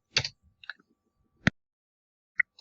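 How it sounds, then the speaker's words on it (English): A few sharp, isolated computer keyboard clicks spaced apart in a quiet room, with a single distinct Enter keypress standing out clearly in the middle. "we're going to go ahead and press enter on our keyboard"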